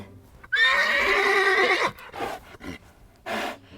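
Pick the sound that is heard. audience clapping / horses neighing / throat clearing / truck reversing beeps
horses neighing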